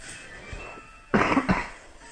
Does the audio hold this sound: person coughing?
yes